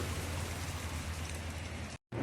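Steady rain during a thunderstorm pours down in a dense, even hiss with a low rumbling undertone, close and continuous, cutting out briefly near the end before resuming.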